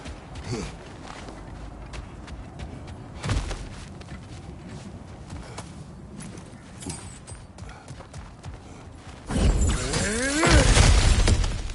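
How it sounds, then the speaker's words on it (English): Objects being smashed apart in a video game, with sharp crashing bursts near the start and a loud, dense run of shattering and splintering debris toward the end over a steady background rumble. "Ah, back to smashing through things for fun and profit"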